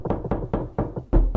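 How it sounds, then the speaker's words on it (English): Sharp knocks on a door in a quick, uneven series of about six raps, close and loud, with the last few landing harder. "Knock knock."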